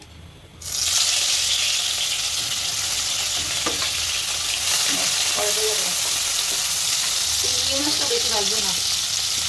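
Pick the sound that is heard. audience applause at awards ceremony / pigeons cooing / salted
salted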